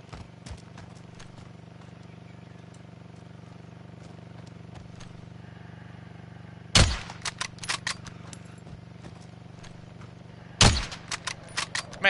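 Gunfire in the video game Call of Duty: Warzone: two loud, sharp bursts a few seconds apart, each followed by brief clattering reports, over a low steady hum of game ambience.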